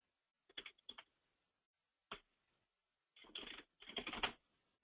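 Short bursts of typing on a computer keyboard, a few quick clicks, a single tap, then two longer clattering runs, close and clear with no talking.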